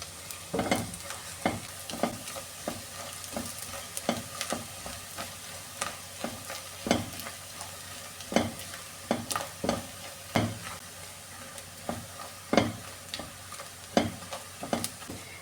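Food frying in a pan over medium flame while being stirred, a continuous sizzle punctuated by frequent scraping and tapping strokes of the spatula, close by and without any voices.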